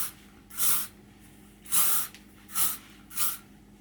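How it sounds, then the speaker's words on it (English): L'Oréal Elnett Satin Extra Strength hairspray with argan oil misted onto hair, four short sharp hissing bursts from close by, the second one longest, with brief quiet gaps between them. "The hairspray that I'm going to be using today is this L'Oreal Alnet Satin Extra Strength Hairspray with Argan oil"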